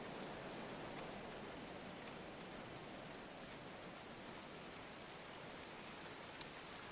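Steady rain falls in the medieval colony-building game Going Medieval, a constant soft hiss spread evenly across the whole stretch with no talk over it.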